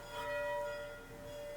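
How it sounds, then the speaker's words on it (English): Church bells ring at an outdoor gathering during the COVID period, a steady sustained bell tone with overlapping harmonics holding throughout, moderately distant and fairly faint over low background hum. "You can also hear it's COVID with the bells,"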